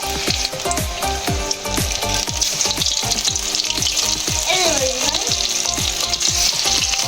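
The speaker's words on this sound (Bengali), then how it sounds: "বাকিগুলো ভেজে নেব" Banana flower fritters sizzle and crackle steadily in hot frying oil, with repeated scraping strokes of a spatula or slotted spoon through the pan, close and continuous with no talk.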